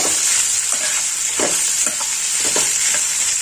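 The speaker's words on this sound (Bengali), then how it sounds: "এবার আমি এর মধ্যে দিয়ে দেবো আদা বাটা ভালো করে মিশিয়ে নেব" Ginger paste stirred into tomatoes and banana flower frying in a pan, with a loud, continuous sizzle and soft rhythmic scrapes of the spoon, close up and without any talk.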